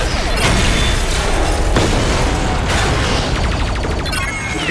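Animated Transformers battle with Decepticon weapon fire: a loud, dense barrage of booms and bursts, several sharp blasts punctuating a continuous roar of explosions and mechanical clatter.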